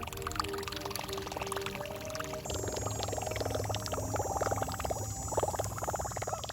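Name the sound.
fishing lure propeller plopping through water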